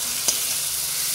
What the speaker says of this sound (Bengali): কড়ার মধ্যে সর্ষেটা দিয়ে এবার নেড়ে নেব এর সাথে ভালো করে।